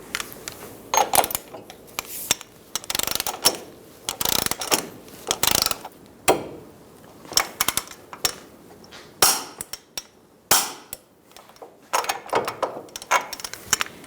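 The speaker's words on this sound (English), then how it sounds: "Torque the axle nut to 199 foot-pounds." A torque wrench ratchets to tighten the axle nut on a 2000-2007 Ford Focus during a front CV boot job, with repeated close, loud bursts of sharp ratcheting clicks separated by short pauses and no talking.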